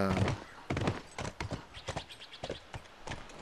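A horse in The Last of Us video game clip-clops with a quick, uneven run of close hoofbeats that fades in level and may carry a faint whinny.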